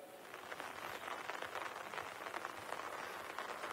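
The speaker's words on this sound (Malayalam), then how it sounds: "ഇപ്പോൾ മഴയാണ്" Rain falling outdoors in Kerala, a soft, steady patter and hiss at a moderate distance, continuous and fairly faint with no one speaking.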